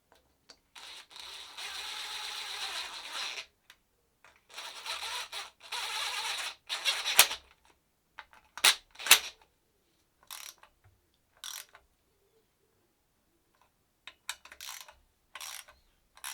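Bolts are ratcheted in by hand on a Renault Trafic MK1 2.2-litre (2165cc) engine during reassembly: bursts of quick ratchet clicking alternate with short sharp metallic taps and pauses, close and fairly quiet.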